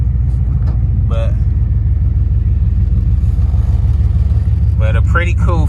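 A Chevrolet Camaro SS idles and drives on its first run with a deep, steady, pulsing engine rumble close by, while people talk briefly over it.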